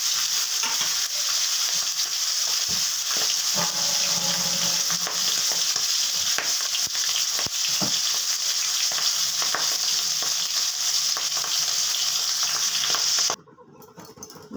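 Fish frying in hot oil in a wok for a Bengali fish curry, a steady, loud broadband sizzle with occasional pops and stirring clatters, alone for about thirteen seconds before cutting off abruptly.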